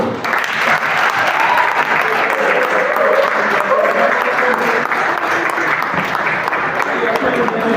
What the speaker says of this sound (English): Clapping, keep clapping on the CPS